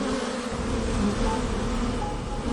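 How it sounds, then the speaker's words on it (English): Honeybees buzz inside a beehive as ventilating workers fan air through it, a constant, dense droning hum at moderate volume that continues without a break and with no voices. "this is the background noise of a beehive"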